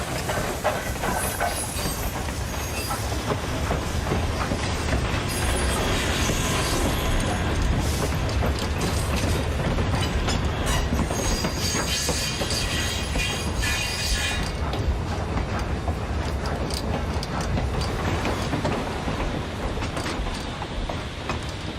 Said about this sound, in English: We then cut to a nice panning shot of a train rolling by